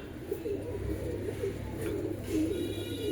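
Pigeons kept by a fancier coo softly in low, repeated throaty phrases against a steady background hum, no voices present.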